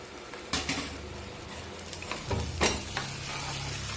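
Tamarind water and jaggery poured over fried chilies in a pan give a quiet, crackling sizzle with soft stirring scrapes and a few light utensil knocks.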